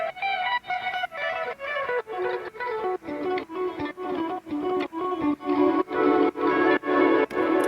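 Guitars layered into a songwriter's track play in a steady, evenly spaced rhythm of repeated chords, each stroke clear and distinct, growing slightly louder toward the end, with no voices over them.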